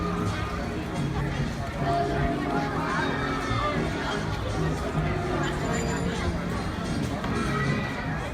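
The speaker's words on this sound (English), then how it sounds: "I mean, it's decently crowded" A crowd on a street at Disney's Hollywood Studios, Walt Disney World: a steady, dense babble of many voices with footsteps moving through, filling the whole stretch at an even level.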